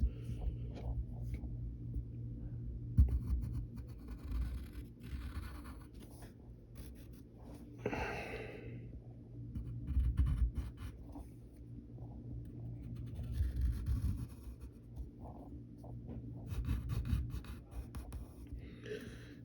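Pen drawing curved lines on paper while sketching the DC Universe character Hawkgirl, a soft, close scratching that comes in short strokes and pauses over quiet room hum.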